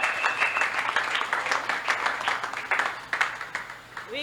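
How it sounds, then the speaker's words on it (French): A church congregation applauds and cheers loudly after a healing testimony, dense rhythmic clapping mixed with shouts filling the room and continuing throughout. "Acclame très fort pour cette puissante guérison."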